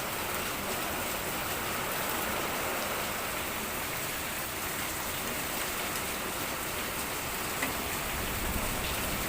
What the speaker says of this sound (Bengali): বৃষ্টি হচ্ছে